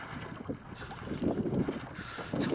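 Small Dyer Dhow sailboat moving gently across open water off Maine, with steady wind buffeting the microphone and soft water lapping and splashing against the hull throughout.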